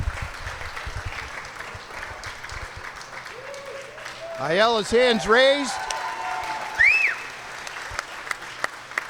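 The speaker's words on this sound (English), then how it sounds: "Just listen to the crowd." A crowd applauds and cheers after a Division III state semifinal high school wrestling bout, Norton against Ashland, a dense loud roar of clapping with a commentator talking over it and brief whistles rising through.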